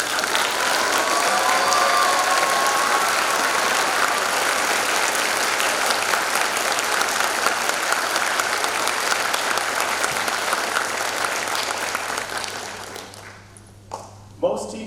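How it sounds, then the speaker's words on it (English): Sustained, dense applause from a large audience at a grade 8 promotion ceremony for a retiring teacher, steady and loud for about twelve seconds before fading out, with a few scattered claps at the end. "Let's give you one more round of applause."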